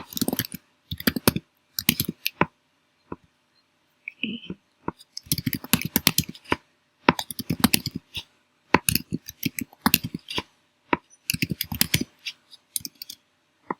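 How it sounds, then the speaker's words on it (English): Bursts of close, crisp key clicks from a computer keyboard as days of the week are typed, coming in quick clustered runs separated by short pauses, with no talk over them. "type in the days of the week"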